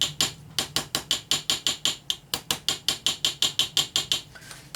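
Homemade model railway ballast being tapped, a rapid steady series of about twenty sharp, loud clicking taps in a quick even rhythm, close up with no talking.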